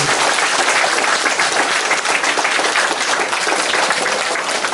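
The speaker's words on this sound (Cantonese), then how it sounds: "我哋更加要俾多啲熱烈嘅掌聲" Sustained applause from an audience at a lecture event, a dense, steady wash of many hands clapping that fills the whole stretch at close, loud level with no pauses.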